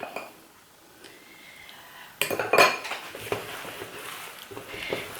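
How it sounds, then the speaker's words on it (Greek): A knife clatters and scrapes against a board and dishes while cutting pastry dough for a Greek cheese pie in a home kitchen, quiet at first, then a burst of close clinks and knocks with soft scraping. "Με το μαχαίρι θα κόψουμε τη ζύμη στη μέση."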